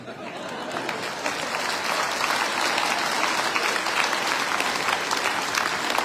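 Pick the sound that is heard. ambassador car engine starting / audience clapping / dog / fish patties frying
audience clapping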